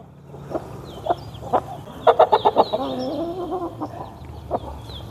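Country chicks and a rooster for sale cluck in a run of short bursts, with a quick flurry of calls near the middle and a few scattered clucks around it, fairly close over a low background rumble.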